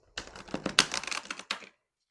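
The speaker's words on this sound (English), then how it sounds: "So let's give it a shuffle" Oracle card deck shuffled by hand, a quick run of dense papery clicks and flutters lasting about a second and a half, close and fairly soft, with no talking.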